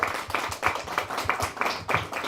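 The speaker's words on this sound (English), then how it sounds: "Can we give them all a round of applause?" Audience applause for a panel at a press conference for the Nogales Bicycle Classic, a short burst of rhythmic hand clapping from a modest crowd, fairly close and steady throughout.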